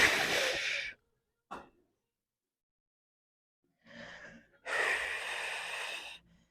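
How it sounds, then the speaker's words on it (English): Deep, forceful breaths during a core workout: a strong breath lasting about a second, a short sharp intake, a pause, then a long loud exhale of nearly two seconds, close and unaccompanied. "Bring it in, inhale. Bring it out, exhale."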